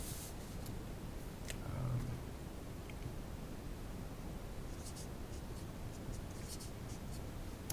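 Pen scratching out equations by hand while working a physics problem, a steady soft scratchy rustle held close throughout, with brief sharper strokes early on.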